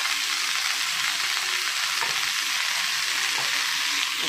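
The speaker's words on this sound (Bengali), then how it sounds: "এবার ওই কড়াতে আমি কেটে রাখা লাউ শাকটা দিয়ে দিলাম," Chopped bottle gourd leaves frying in a wok, a loud continuous hissing sizzle broken by a few clinks and scrapes of stirring.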